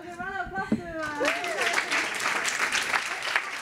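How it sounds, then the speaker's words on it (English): A graduation party for a women's tech bootcamp: a speaker's voice comes first, then the room breaks into steady, dense clapping that continues to the end. "round of applause to everyone"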